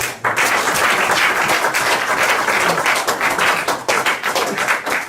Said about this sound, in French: Si vous pouvez un peu applaudir.